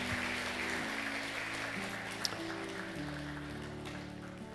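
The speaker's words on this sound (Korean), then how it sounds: "박수하겠습니다." A church congregation applauds during a Sunday service in Daegu, a steady, soft wash of many hands clapping at a distance that holds for several seconds over low sustained tones.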